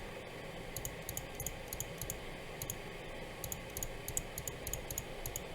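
A computer mouse is left-clicked repeatedly, quick faint ticks coming in short bursts over a low steady background hum.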